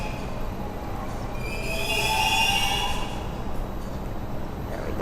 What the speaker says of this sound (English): So yeah, this is the train.